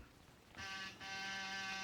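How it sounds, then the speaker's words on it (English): A door buzzer sounds as a radio drama effect: a steady electric buzz rings twice, the first press short and the second held longer, loud and close. "Then I rang his buzzer."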